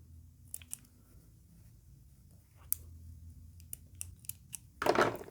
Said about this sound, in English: Clip my threads off